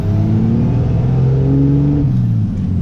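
A Cummins 24-valve diesel truck accelerates hard in fourth gear, a loud, steady low engine drone rising in pitch from inside the cab over about three seconds, with no talking.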